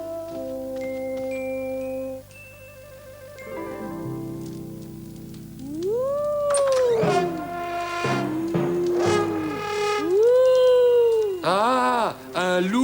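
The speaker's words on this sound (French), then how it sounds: "Ah, un loup!" An animated wolf in a French children's cartoon growls and howls in long rising and falling vocal sweeps, loud and close, after a stretch of soft background music.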